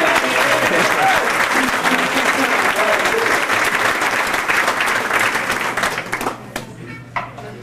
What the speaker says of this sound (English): I think you'll applaud too.